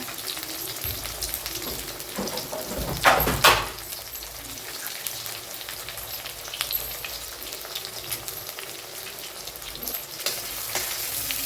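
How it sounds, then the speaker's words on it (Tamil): Eggs frying in oil for street-style chicken rice: a steady crackling sizzle with a louder hiss burst early on, as though something were stirred or added, and no talk over it. "இந்த ஆயில் இந்த எக்கை உடச்சிக்கிறேங்க ரெண்டு எக்கு தான் நான் எடுத்துக்கிறேன் இது நல்லா முதல் வேகட்டுங்க"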